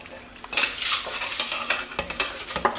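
Sushi rice being rinsed in a colander, with close, busy stirring, scraping and wet clattering that run steadily for a few seconds with no talk.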